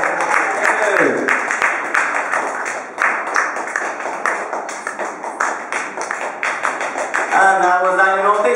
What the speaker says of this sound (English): Another round of applause for Daniel Northeast.